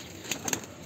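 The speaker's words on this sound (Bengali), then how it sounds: "এখানে সব রকমেরই কবুতর আছে।" Pigeons at a home loft, including feather-footed and Giribaz breeds, give a brief soft coo and light rustle at moderate distance, with no talk.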